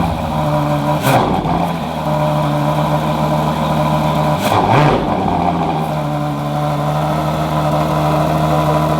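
Lamborghini Revuelto engine on a test drive, a steady close car engine drone in the cabin with two brief louder swells, no talking.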